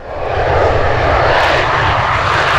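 A jet-powered truck rated at 36,000 horsepower, billed as the world's fastest, roars with a loud, sustained jet engine blast that swells quickly and holds steady.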